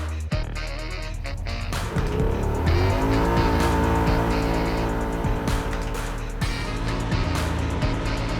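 An off-road vehicle's engine roars as it accelerates and drives hard on a track, with gear shifts and occasional tire squeals, loud and close throughout.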